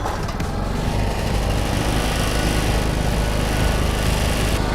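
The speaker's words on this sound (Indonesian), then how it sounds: "Step pertama cara menghidupkannya adalah nyalakan tombol on off yang ada di depan genset." A portable generator engine runs with its choke engaged, giving a loud, close, unbroken mechanical drone that holds steady throughout.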